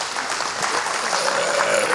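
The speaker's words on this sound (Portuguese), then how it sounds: "vou pedir uma salva de palmas para o nosso querido Villa-Lobos" Audience applause in a convention lecture hall honouring Villa-Lobos, a dense, fairly loud wash of crowd clapping sustained for the whole moment.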